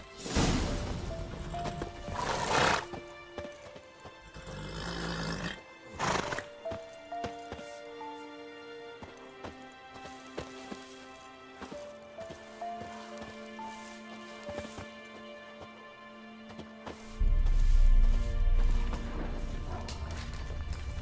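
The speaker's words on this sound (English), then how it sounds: "That's his horse. What's its name? Scorpion? Beautiful animal." A horse in The Witcher 3 video game trots with steady clip-clopping hooves and snorts amid game ambience and music, with a loud rumbling crash near the end.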